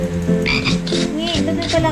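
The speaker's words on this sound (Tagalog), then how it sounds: "Ba't may palaka sa kanya?" A frog croaks repeatedly in a quick, throaty rhythm, close and fairly loud, heard indoors during a live stream with no talking over it.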